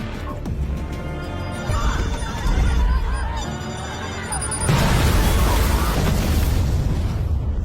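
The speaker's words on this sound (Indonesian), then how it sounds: "ledakan keras terdengar mengguncang seluruh area dan Andu tersenyum puas" A loud blast rumbles and crashes, then a second, bigger boom hits partway through and leaves a sustained roaring rumble, with a dramatic musical score underneath.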